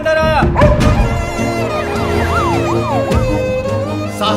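An ambulance siren wails in a film scene, loud and close with rising and falling tones, joined by music-like harmonics and a brief impact near the start.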